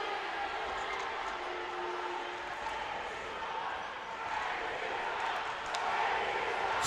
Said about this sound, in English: the Covelli Center crowd voices their displeasure with the officiating